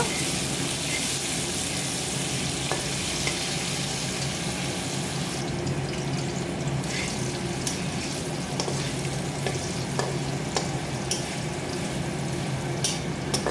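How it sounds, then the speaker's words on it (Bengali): Potatoes fry steadily in hot oil in a pan while being cooked for egg curry, a dense continuous sizzle close by with occasional stirring clicks, no talking. "কিছুক্ষণ নাড়াচাড়া দিয়ে সেটাকে ভালো করে ভেজে নেব কড়া করে ভাজবো"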